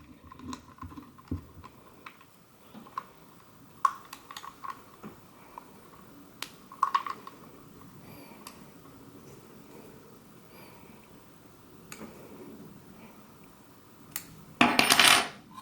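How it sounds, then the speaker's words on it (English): Small metal clicks and clinks of a bolt dropped into a SIG 553 rifle's pistol grip and turned with a 4mm hex wrench, scattered and quiet, with a brief louder rattling burst near the end. "drop the bolt in place and tighten it with the 4mm hex wrench"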